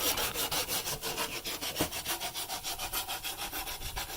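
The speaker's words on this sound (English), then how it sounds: "you want to always sand, like when you're about to use panel bond, good 80 grit sandpaper, like on this fiberglass stuff" Coarse 80 grit sandpaper is rubbed back and forth over fiberglass on a car widebody part, making a rhythmic, close scratching with steady even strokes and no talk.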